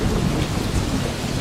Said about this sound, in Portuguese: Começou uma grande tempestade.